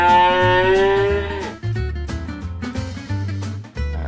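A cow lows repeatedly on a farm, with deep, loud, drawn-out moos close by and no talking.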